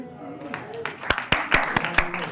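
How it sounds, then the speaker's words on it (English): Lecture audience at a university Earth Day event applauding, a scattering of sharp individual claps building over a couple of seconds, fairly close and moderately loud. "Applause"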